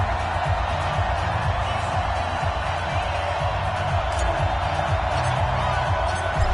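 A stadium crowd roars in a Madden NFL football video game on PS4 ahead of a Redskins versus Chicago Bears matchup. The cheering is a loud, dense and continuous wash that runs through the whole clip.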